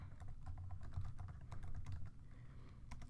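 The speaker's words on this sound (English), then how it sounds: "I'm going to type in the averages." Quiet, close typing on a computer keyboard, a rapid irregular patter of soft key clicks continuing steadily throughout.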